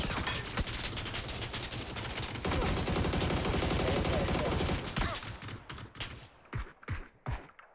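Rapid bursts of PUBG gunfire, a dense continuous fusillade for several seconds, then separate loud shots spaced apart as the firing thins out.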